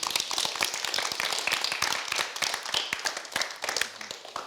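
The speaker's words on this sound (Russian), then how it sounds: "Аплодисменты." Dense clapping from an audience at a Russian youth interview event featuring a minister, steady and close throughout with no voices over it.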